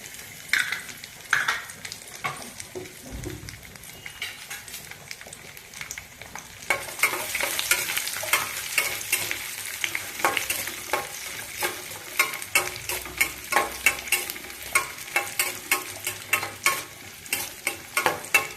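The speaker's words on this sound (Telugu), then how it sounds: "కిస్మిస్ వేయించుకుని," Steady sizzling of nuts and raisins frying in hot ghee, with frequent scraping stirs that grow louder and busier partway through.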